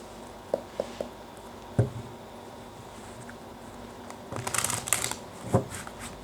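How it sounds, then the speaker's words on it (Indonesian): Tarot cards are handled and shuffled up close, with a few soft isolated taps and flicks followed by a denser rustling burst of shuffling, then a final slap of the deck. "terutama ketika aku shuffle kartu ini"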